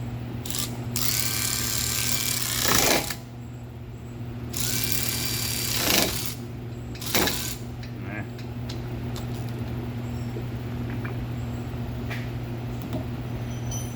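A power tool runs down brake caliper bolts in several short buzzing bursts over a steady mechanical hum, close by, with pauses between bursts.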